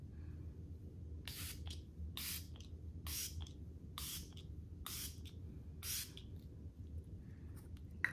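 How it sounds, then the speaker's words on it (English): Milk Makeup Hydro Grip setting spray fires in about seven short, sharp misting bursts, each followed by a quick softer puff, evenly spaced and close over a low background rumble. "this is a set and refresh spray, so we're gonna try the refreshing part of it"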